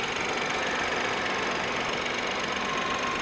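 A 2024 Dacia Duster's 1.2 TCe three-cylinder 130 hp mild hybrid petrol engine idles steadily, a constant close hum with faint mechanical ticking and no talk.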